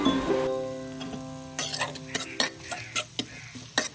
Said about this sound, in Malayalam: ഇനി നമുക്ക് ഇതിലോട്ട് ഉള്ളി ചേർത്ത് കൊടുക്കാം ശേഷം കുറച്ച് ഉപ്പും കറിവേപ്പിലയും കൂടി ചേർത്ത് കൊടുത്തിട്ട് നന്നായിട്ടൊന്ന് വഴറ്റിയെടുക്കാം